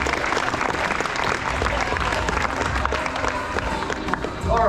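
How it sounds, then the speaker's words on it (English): A crowd applauds at a tiger show at Dreamworld on the Gold Coast, a dense, steady clapping that carries loud and continuous with a faint voice near the end. "I think we'll give him a bit of a clap for that one."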